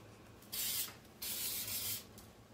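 Toile Chic hairspray spritzed onto hair while styling flat-iron curls: two close, breathy hissing bursts, the second longer, with no talking.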